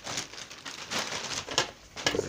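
A thin plastic delivery packet from a parcel of motorcycle LED headlight bulbs is crinkled and handled close by, soft irregular rustles and crackles in short bursts.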